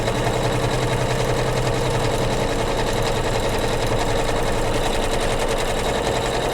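A sewing machine stitches a quilt border with a steady, continuous, fast mechanical whir and rattle that runs close and loud throughout, with no voices.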